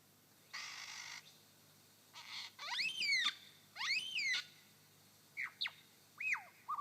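A lyrebird mimics a yellow-tailed black cockatoo: a burst of hiss, then several loud, wavering, rising-and-falling screeching calls in close sequence, followed by a few shorter whistled notes, all near and clear over quiet forest background.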